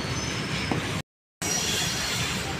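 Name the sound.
freight train passing on railway track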